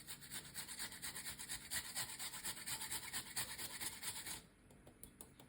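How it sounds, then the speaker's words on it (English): Fresh ginger rubbed against a grater, a quick rhythmic rasping of short strokes, close and soft, then stopping near the end. "it's better for you to grate the ginger"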